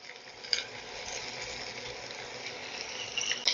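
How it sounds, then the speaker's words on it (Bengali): Chopped onion, garlic and grated ginger sizzle in a hot pan, a steady frying hiss close by with a few brief louder crackles, no voices. "এবার এখানে আমি দিয়ে দিচ্ছি কিছুটা পরিমাণ পেঁয়াজ কুচি, হাফ টিস্পুন আমি দিয়ে দিলাম রসুন কুচি।"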